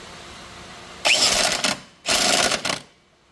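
A nut is run onto the rear shock bolt of a Lexus RX450/RX350 with a power tool, in two loud, close, steady buzzing bursts of about half a second to a second each, separated by a short pause.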